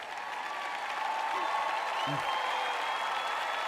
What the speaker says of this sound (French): Vous n'applaudissez pas très fort.